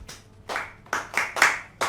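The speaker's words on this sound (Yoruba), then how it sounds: "Ẹ pàtẹ́wọ́ fún." A small audience claps in short, separate bursts, about five quick rounds of hand clapping, close and fairly loud, with no voices.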